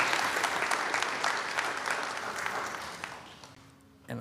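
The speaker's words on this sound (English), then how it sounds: "Let's give all of them a huge round of applause for their accomplishments" Applause from the audience at a city mayor and council meeting, a sustained round of clapping that tapers off toward the end.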